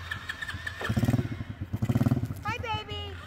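Harley-Davidson motorcycle engine revving nearby in repeated throttle bursts with a deep pulsing rumble, while people talk over it.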